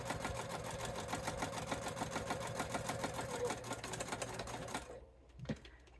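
A sewing machine stitches a fabric bifold wallet with a fast, steady mechanical whirring chatter that runs for several seconds, then stops abruptly, followed by a brief soft clunk.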